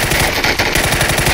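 Rapid automatic gunfire in a shooter video game during a friendly-fire moment, a dense continuous rattle of shots filling the moment, loud and close with no talk over it.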